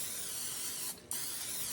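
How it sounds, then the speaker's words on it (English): Cooking spray hisses onto a baking pan in a steady, close spray lasting most of the moment, with one brief pause midway before resuming. "I'm just going to I'm going to spray my pan."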